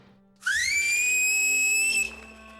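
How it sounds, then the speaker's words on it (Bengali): A single loud, shrill finger whistle blown with fingers in the mouth from a rooftop to call pigeons, sliding up quickly and then holding a steady piercing tone for about a second and a half before cutting off. "মুখে আঙুল গুজে শীষ দিচ্ছে।"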